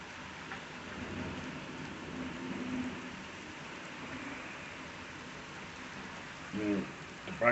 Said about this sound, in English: we were issued a thunderstorm warning with some heavy rain, torrential rain downpour.